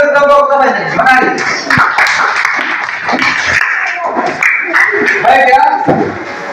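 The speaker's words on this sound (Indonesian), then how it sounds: "Tepuk tangan untuk kelompok utamanya." A classroom gives applause to a presenting group: scattered hand claps mixed with chatter and voices, fairly loud and close throughout.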